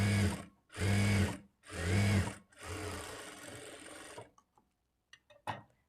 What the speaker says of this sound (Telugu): ఇప్పుడు మరలా ఈ చివరన ఒక స్టిచ్ వేసుకోవాలి